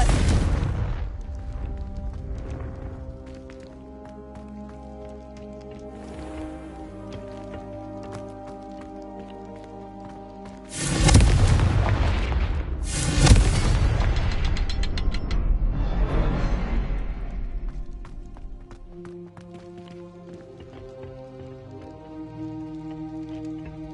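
A Confringo blasting spell in the Hogwarts Legacy video game goes off as a loud booming burst with crackling debris, rising sharply from an ongoing rumbling, mechanical game soundscape and music, then fading back.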